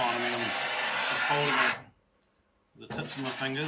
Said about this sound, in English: the sound you can hear is the blade just sliding over the steel